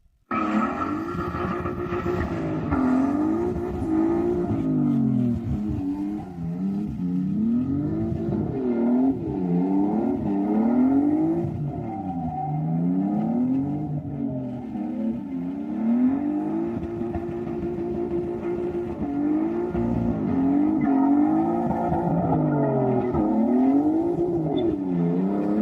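A Toyota Supra MK4 with a 2JZ engine drives steadily, its engine note rising and falling through repeated gear-like sweeps, loud and continuous with no talking.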